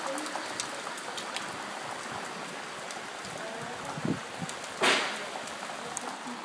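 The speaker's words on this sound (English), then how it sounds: "It's raining." Steady rain patters on a surface, with scattered sharper drips and a brief louder splash partway through, continuous and close.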